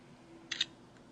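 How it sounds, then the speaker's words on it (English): A phone camera shutter fires once, a short, crisp double click close to the mic against faint background hiss, with no talk. "Press it all the way to take the photo"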